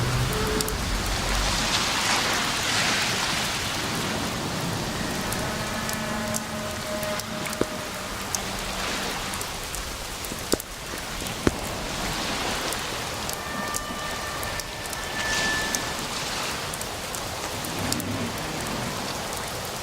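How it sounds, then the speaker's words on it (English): Heavy rain pours steadily in the video game Overclocked, a dense, constant hiss of drops on surfaces filling the scene, with a few faint distant tonal sounds and occasional soft clicks beneath it. "Raining cats and dogs. You hardly see anything."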